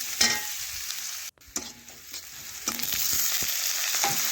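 Onion fries in oil and gets stirred, giving a continuous bright sizzle broken by a few scraping knocks of the spoon against the pan and one brief drop-out.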